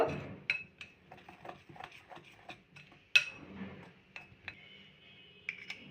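A utensil clinks and taps faintly against a bowl as flour, baking powder and baking soda are mixed for an Oreo biscuit cake batter, in a quiet, irregular series of small chinks.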